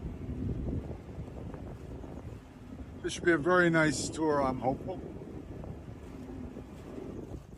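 A fairly quiet waterbus engine on the lakes of Killarney National Park near Ross Castle makes a low, steady rumble mixed with wind buffeting the microphone, and someone speaks briefly over it.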